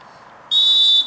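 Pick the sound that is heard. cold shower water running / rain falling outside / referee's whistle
referee's whistle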